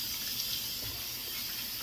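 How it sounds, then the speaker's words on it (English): Running water splashes steadily at a bathroom sink as a face is wetted before a wet shave, a soft continuous gush and trickle with no talking. "what I'll do is I won't relather, but I'll wet my face really well."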